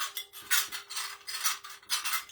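Light metallic clinks and jingles come in quick bursts, like small enamel cups knocking together, fairly faint and close.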